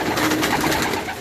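Pigeons kept by a pigeon fancier in Karachi coo in a soft, throaty, continuous murmur, close by, with nothing else heard over them.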